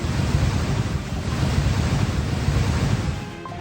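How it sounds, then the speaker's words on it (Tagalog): Rushing floodwater roars steadily with broadband turbulence after heavy rain in Davao City, loud and close, easing slightly near the end. "biglang rumagasa ang baha"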